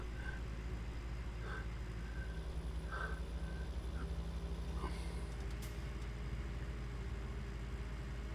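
Road traffic with heavy vehicles idling and rumbling nearby, a steady low engine drone under intermittent beeps and faint passing noise, no voices.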